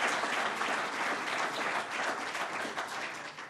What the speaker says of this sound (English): So please let us give a round of applause.